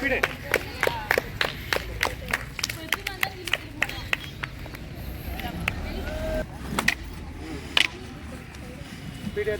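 An audience claps in rhythm at a silambam summer camp demonstration. The sharp, steady claps about a third of a second apart carry over a crowd murmur, then thin out and turn irregular, and voices talk throughout.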